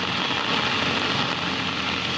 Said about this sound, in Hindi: दिल्ली में भारी बरसात की 3 तस्वीरें आपको हम दिखा रहे हैं